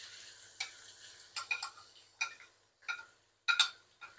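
Chopped onion, garlic, ginger and green chili fry in hot oil for a stuffed tinda gravy, giving a string of short, sharp sizzling bursts as the mixture is stirred, each flaring loudly and then fading.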